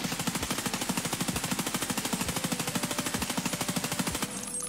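Automatic gunfire sprayed at a wall in Escape from Tarkov: a long, steady burst of rapid, evenly spaced shots, loud and close, running almost continuously before cutting off near the end.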